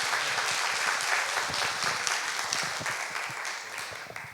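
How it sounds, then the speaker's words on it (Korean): A room of listeners gives a warm round of applause at the close of a final lecture session, steady dense clapping that gradually fades toward the end. "다시 한번 큰 박수 부탁드리겠습니다"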